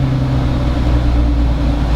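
A Jeep Wrangler engine revs hard while accelerating from a crawl to about 30 mph, a loud, steady low drone with a sustained tone running throughout, no speech.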